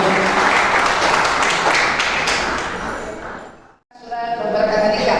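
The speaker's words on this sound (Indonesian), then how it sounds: "Tepuk tangan buat Tuhan Yesus Bapak Ibu." Guests at a church wedding blessing clap together, a loud, dense burst that rolls on for a few seconds before cutting off abruptly, after which a voice comes in.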